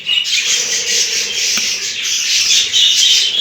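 Budgerigars in a home breeding cage squawk and chirp continuously at close range, with a scratchy rustle of fluttering wings and scrabbling feet mixed in throughout.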